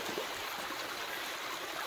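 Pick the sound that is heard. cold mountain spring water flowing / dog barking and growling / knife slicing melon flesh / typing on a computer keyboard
cold mountain spring water flowing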